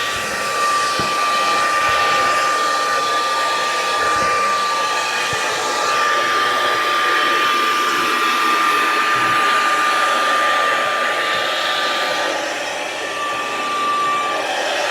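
Hair dryer or heat gun blowing steadily to warm the panel adhesive on a rear-wheel-drive Tesla Model Y, a loud continuous whooshing roar with a constant whine, close and unbroken throughout with no talking.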